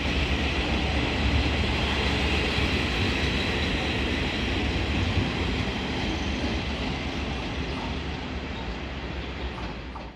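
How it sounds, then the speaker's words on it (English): Breezy Blue tourist excursion train in Taiwan with older-looking rolling stock, a dense continuous roar of rolling railcars with faint clickety-clack, close and loud, easing slightly toward the end. "this one is the Breezy Blue train, which uses what at least looks like much older rolling stock"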